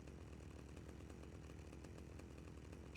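Chainsaw revving steadily in GTA Vice City, a loud continuous motor drone that holds throughout with no talk over it, swelling slightly at the very end.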